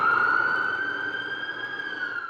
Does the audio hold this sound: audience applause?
no